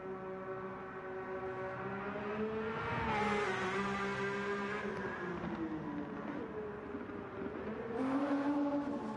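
Porsche race car engine in Gran Turismo 7, a steady tonal drone that rises and dips in pitch as the car accelerates and shifts, loud and continuous throughout.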